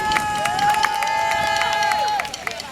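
A crowd claps and cheers at an outdoor park revitalization event in Detroit, with a bright whistle-like tone sliding over the babble and applause, lively and fairly near.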